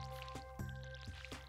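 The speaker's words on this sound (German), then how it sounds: "Aber erstmal gieße ich hier dieses Feld." Watering a crop field with a watering can in the farming game Stardew Valley: four short, soft splashing squishes spaced about a quarter second apart over a steady game music background.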